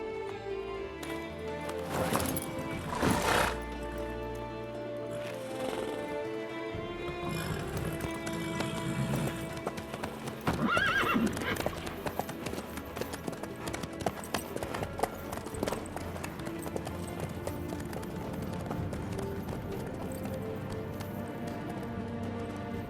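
Horse hooves clip-clop steadily at a riding pace in The Witcher 3: Wild Hunt, a continuous rhythmic clatter over game ambience, with occasional brief voices.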